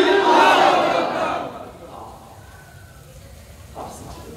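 A large crowd at a Bengali Islamic sermon answers the Nara-e-Takbir call with a loud collective chant, a massed roar of voices swelling at first and then fading into the hall's murmur.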